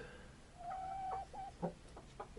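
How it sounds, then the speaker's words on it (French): Hens settled in a coop at night give soft, sleepy clucks and a few brief murmuring calls, faint over a steady low background hum. "nos deux premières poules"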